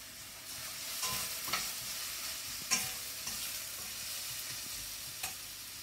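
Garlic and ginger stir-fry in a pan as dry spices go in, giving a soft continuous sizzle broken by several sharp scraping stirs and clicks, near and fairly quiet, with no talking.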